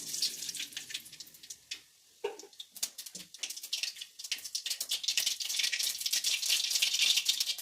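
Mustard seeds spluttering and crackling in hot oil in a pan, a dense run of sharp pops that starts sparse, pauses briefly, then builds into a steady close sizzle.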